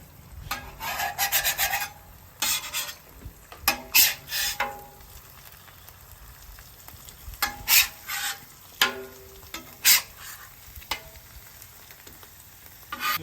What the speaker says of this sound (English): We'll flip those, take the pancakes off.